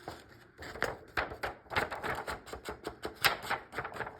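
Close, crisp rustling and crinkling of paper pages flipped through in Creative Haven colouring books in quick, irregular bursts, with no voices.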